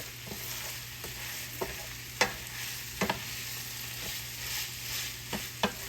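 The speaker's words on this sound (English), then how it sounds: "We're going to stir that rice in here and kind of wake it up." Long grain rice stirred in a pan with a spoon, with soft scraping and a few sharp clicks at irregular intervals over a low steady hum. Close and fairly quiet, no voices.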